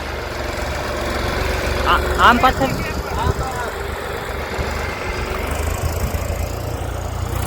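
A tractor engine idles with a steady low rumble during groundnut harvesting work on a farm, continuous beneath people talking nearby.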